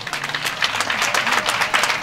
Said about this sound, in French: Pas des applaudissements nourris,